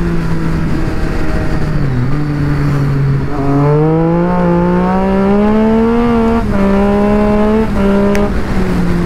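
A Triumph Speed Twin 900 motorcycle revving hard as its rear wheel loses traction, a loud, close engine note that climbs in pitch, wavers and rises again over about nine seconds with no talk.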